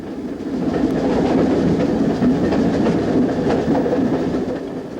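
A locomotive-hauled train on the Nene Valley line accelerating to its maximum permitted speed on a gradient, a loud continuous rumble with rhythmic clickety-clack of wheels over rail joints, no voices.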